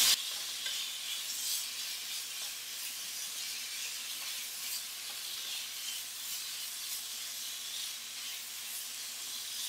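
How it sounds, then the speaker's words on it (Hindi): Chicken cubes are added to a hot pan and stirred for a chicken tikka pizza cake, giving a steady, soft sizzling hiss with light scraping throughout and no talking. "इसके अंदर चिकन क्यूब शामिल कर दें।"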